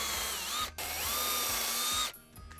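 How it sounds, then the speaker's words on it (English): A power drill bores pilot holes for 1/4 inch by 1.5 inch lag bolts, a steady close whining motor run with a short break, then stopping with a brief rattling wind-down. "Get a little pilot hole going."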